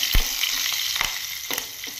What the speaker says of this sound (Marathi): इथे मी 9-10 कढीपत्त्याचे पानं घेतले आहे, ती पण छान तडतडली आहे